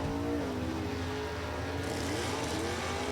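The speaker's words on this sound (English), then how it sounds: "Brian hustling his way down track in the Buick" A late-model GM fuel-injected Buick drag racing car at a Super Stock event, engine roaring continuously at high revs as it runs down the strip, loud and sustained, no talking.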